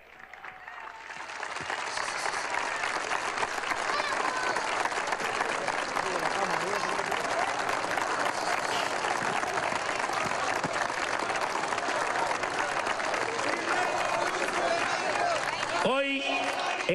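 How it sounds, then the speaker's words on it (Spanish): Large crowd at a political congress applauding, a loud dense wash of clapping that swells in over the first two seconds and holds steady for more than ten seconds before breaking off. "Vamos a recibirlo con un aplauso a los compatriotas."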